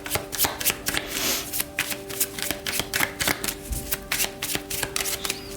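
Tarot cards are shuffled by hand up close, with quick riffling and slapping bursts repeating in an irregular rhythm and no talking.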